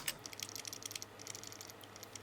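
Rapid, light clicking of computer keyboard arrow and Enter keys being pressed while adjusting BIOS settings on a GIGABYTE Z790 AORUS MASTER X motherboard; a steady series of faint, close taps with no talking.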